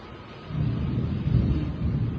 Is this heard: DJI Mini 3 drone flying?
no